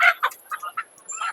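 Country chickens at a pet market give several short, close clucking and chirping calls in quick irregular bursts, with no voices over them.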